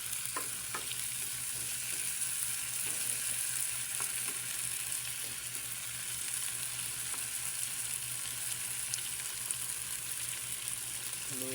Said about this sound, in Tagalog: Haluin lang natin para hindi siya masunog, hindi manikit sa kawali.